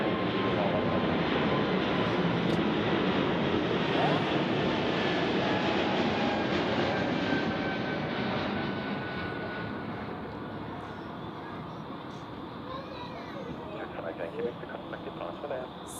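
A jet airliner takes off at Zurich Airport on a foggy day, its loud engine roar holding strong, then slowly fading as it climbs away.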